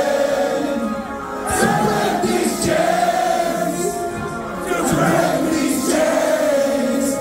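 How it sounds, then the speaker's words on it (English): Crowd at a Toronto metalcore show, a dense continuous roar of many voices singing and shouting along, steady and loud throughout with swelling peaks. "Listen to this crowd."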